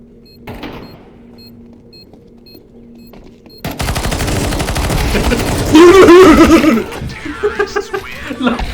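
Rapid bursts of video game gunfire break in after a quiet stretch, dense and loud, with people talking and laughing over the shooting.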